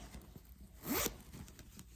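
A zipper on a Vera Bradley Triple Zip Hipster pocket is pulled in one quick, close pass, crisp and alone with faint handling noise around it.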